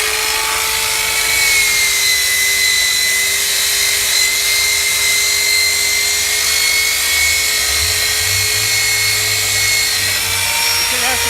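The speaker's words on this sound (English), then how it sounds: "I've got 100 grit sandpaper on the sander, and I'm just gonna have at it" A Titan belt sander fitted with 100 grit paper grinds across a swollen door, a loud, continuous, close motor whine with a steady droning pitch and slight load changes throughout.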